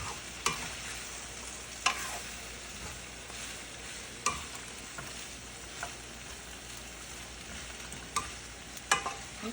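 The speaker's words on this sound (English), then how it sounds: "I'm just going to let these finish stir frying, and then I'm going to add my sauce." Vegetables with water chestnuts stir-fry in a skillet, a steady sizzle with periodic sharp scrapes and clatters as the pan is stirred every second or two, no voices.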